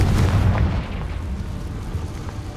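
Spell explosion from a video game, a deep rumbling boom that opens loud and decays into a low, rolling roar over a couple of seconds.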